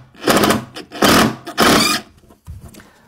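A power driver whirs in three loud bursts as a stainless steel decking screw self-taps without a pilot hole into an MDF stair tread, then a faint short fourth burst follows.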